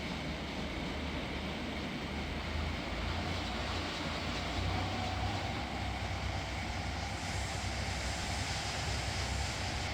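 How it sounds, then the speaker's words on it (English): Steady, continuous rumble of a video game train rolling along in Trainz, with low clattering and a constant mechanical drone throughout, no voices. "Noisy little train though."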